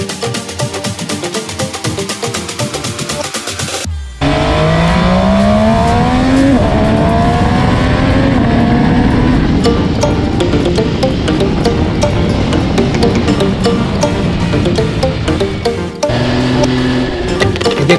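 An MV Agusta Superveloce 800 motorcycle engine revs hard and climbs through the gears, rising pitch sweeps repeating as it accelerates, loud and close, after a brief different-sounding start.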